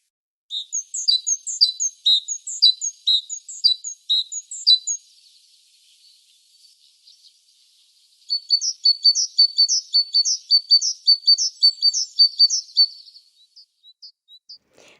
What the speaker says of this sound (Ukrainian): Ну, звичайно, що ви впізнали цю пташку. Це синички, сестрички.